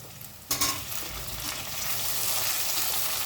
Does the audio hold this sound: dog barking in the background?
no